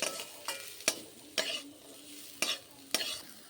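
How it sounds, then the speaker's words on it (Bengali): Turmeric-laced spice mixture being stirred in a pan, with a string of sharp scraping strokes at an irregular pace over a soft background sizzle, close and without any talk. "দিয়ে ভালো করে আবার একটু নাড়িয়ে দিচ্ছি"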